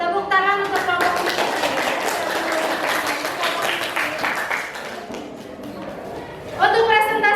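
A classroom audience claps for a presenting student group, a dense sustained round of applause filling most of the stretch, with voices speaking at the start and again near the end.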